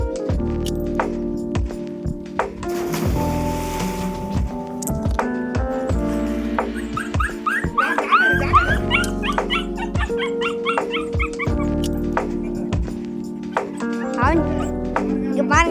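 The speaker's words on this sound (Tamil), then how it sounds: "கத்துது, நாய் கத்துதுங்க" Dog barking and yipping repeatedly near a bathing spot, sharp close barks in bursts with some whimpering, while people talk throughout.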